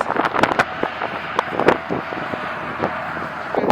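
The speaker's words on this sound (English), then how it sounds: "I'm trying to block the wind with my body, because we're out in the middle of the open and spring in Missouri is very windy" Strong spring wind gusts over the microphone in an open Missouri garden, with rough irregular buffeting bursts over a steady rushing background.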